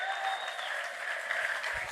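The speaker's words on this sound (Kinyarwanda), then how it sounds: "mushimira Imana muyikomera amashyi" Church congregation applauding together, a dense steady clapping that fills the whole clip at close range, with no speech over it.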